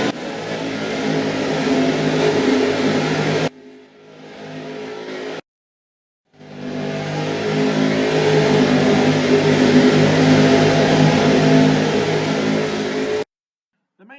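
A race car in a racing video game pulls out of the pits with a loud, steady engine drone, broken by two abrupt silences before the revving engine returns.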